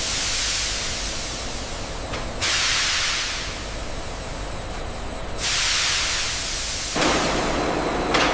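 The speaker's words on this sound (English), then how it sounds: "Inside the enclosed steaming chamber, controlled steam surrounds the moving noodle portions." Steam hisses steadily inside an enclosed noodle-steaming chamber in an instant noodle factory, a loud, broad rushing hiss that swells in several bursts over a constant machinery rumble.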